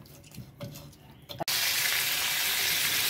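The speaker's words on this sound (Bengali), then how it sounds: "গজাল মাছটা এখানে এক পাশে ভালো করে একটু ভেজে নিচ্ছি।" Gajal fish, rubbed with salt and turmeric, set frying on one side of a pan: quiet kitchen handling with soft knocks first, then a sudden loud, steady hiss of sizzling oil that carries on evenly to the end.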